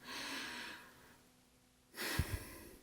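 A voice imitates a slow, tense, deep breath, like a boxer's heavy breathing: a long, soft inhale and exhale, a pause, then a sharper, louder breath with a brief snort-like puff at the end.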